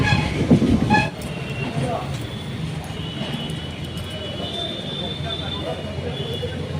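A train passes close by, with a brief rattling rise at the start settling into a steady low rumble and hiss of wheels on rails, a voice speaking briefly near the beginning.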